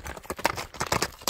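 Hooves of a horse moving at a smooth ambling gait clop close by in a quick, steady rhythm, several impacts each second over the brief stretch, with no talk.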